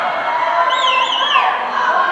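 A wrestling crowd roars with sustained massed voices and shouts in a large arena, loud and continuous, with a few higher whistles or cries rising above the noise.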